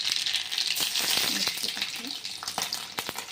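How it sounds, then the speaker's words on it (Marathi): Cumin and mustard seeds crackle and pop in hot oil, a loud, busy sizzle with rapid irregular spatters and a faint voice underneath. "इकडे तेल पण तापलेलं आहे जिरे मोहरी"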